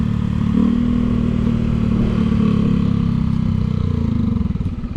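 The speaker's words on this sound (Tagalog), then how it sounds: "Dami yung motor, oh." Many motorcycles passing at an entrance in Little Baguio, Pangasinan, with a loud, close, continuous engine rumble that stays steady throughout and begins to fade near the end.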